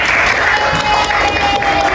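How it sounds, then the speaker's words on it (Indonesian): A short burst of clapping from a group of schoolchildren in an elementary classroom, steady and fairly loud, with voices mixed in. "Dani, tepuk tangan dulu untuk Dani."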